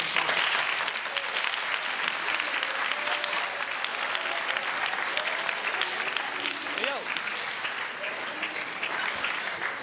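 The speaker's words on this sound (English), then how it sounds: "And let's give them a round of applause." A large audience at a high school gathering claps loudly and continuously, dense sustained applause with occasional voices and shouts mixed in.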